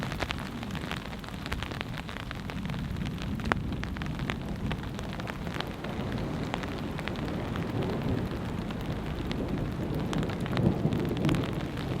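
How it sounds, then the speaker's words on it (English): Steady rain patters on a tarp shelter in a forest during a storm, with low rumbles of thunder rolling underneath throughout, a continuous close drumming wash with no voices. "There's something special about being underneath the tarp listening to the thunder, along with the rain, of course."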